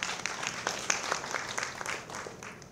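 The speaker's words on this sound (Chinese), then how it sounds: "请掌声欢迎" An audience claps in welcome for a primary school principal at a school character-education event, a steady broadband patter of many hands with scattered louder claps throughout.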